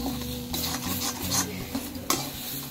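Spatula rasping and scraping as a curry of taro stems (sola kochu) and fried shrimp is stirred in a pan, close rubbing strokes in uneven rhythm with a sharp knock near the end.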